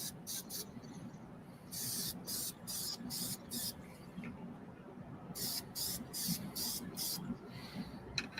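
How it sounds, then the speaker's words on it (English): Aerosol spray glue hisses out of a can in repeated short bursts, several quick blasts and then longer sprays, close and fairly loud over a low background rumble. "take your aerosol, spray glue, spray aerosol."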